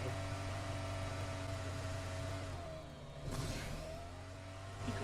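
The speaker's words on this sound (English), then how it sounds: "I hear a car to our right." A car engine hums steadily with a low tonal drone, and a brief whooshing pass cuts through midway, like a vehicle driving close by in PUBG Mobile.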